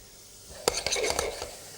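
Diced red onion drops into a hot pan with a quick clatter and a short burst of sizzling, then a few brief scraping stirs, all close and lasting barely a second.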